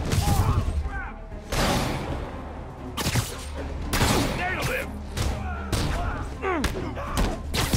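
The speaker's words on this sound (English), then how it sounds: "Snipers are opening up on the convoy." Snipers fire on a convoy in the Spider-Man Remastered Turf Wars DLC on PC. Dense, continuous game combat plays with repeated gunshots and thumps under layered music, effects and voices.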